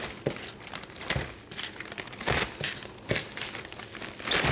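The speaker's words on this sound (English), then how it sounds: "I'll put these all in a Ziploc bag" Plastic Ziploc bag crinkles in bursts as breaded chicken pieces are packed into it for freezing, with close, sharp rustles recurring roughly every second and no talk.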